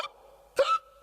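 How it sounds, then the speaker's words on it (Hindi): A cartoon schoolteacher hiccups once, a sudden abrupt squeak-like gulp that trails off, close and clear after a brief quiet moment. "सर को हिचकी की बीमारी हो गई है।"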